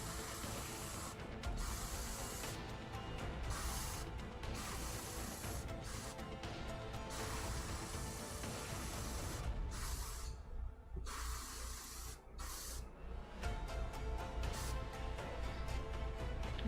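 An airbrush sprays blue highlight paint onto a miniature in short and long hissing bursts separated by brief pauses. The hiss is close and steady.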